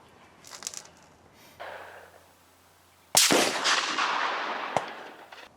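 A .30-06 rifle loaded with reloaded GP-11 bullets fires one sharp, loud shot at an outdoor range, its blast decaying over a couple of seconds, after quieter handling noises and a brief click earlier.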